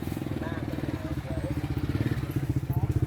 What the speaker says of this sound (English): a motorbike somehow fitting through the middle.